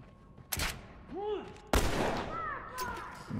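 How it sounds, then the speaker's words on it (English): Two loud, sharp gunshots ring out in a video game firefight, separated by about a second, with whistling effects and background game noise between them. "there's bullets flying everywhere"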